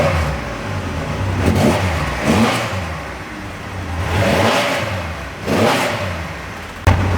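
A Triumph Rocket 3R motorcycle engine runs close by and rises and falls through several revs, ending in a sharp burst near the end.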